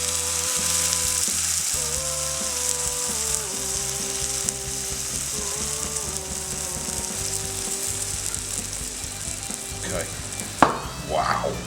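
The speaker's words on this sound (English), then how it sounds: "you want the bacon to get nice and crispy" Bacon frying in a pan until crispy, a steady loud sizzle and crackle throughout, with a brief clatter of utensils near the end.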